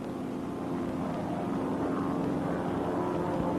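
Propeller aircraft flying in close formation, a steady broad droning engine roar that holds constant throughout, loud and continuous with no pauses.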